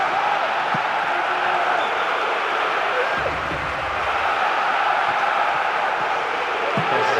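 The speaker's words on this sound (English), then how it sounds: "the crowd is adding to this as a spectacle. The noise they're making is terrific." Football stadium crowd in the video game PES 2009 gives a steady, dense roar that holds at an even level throughout, with no clear breaks or swells.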